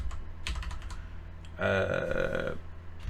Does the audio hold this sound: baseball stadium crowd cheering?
no